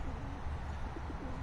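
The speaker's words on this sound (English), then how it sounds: "You're actually a really good looking bird." A pigeon coos softly and continuously, a low steady murmur of rolling calls with no one speaking.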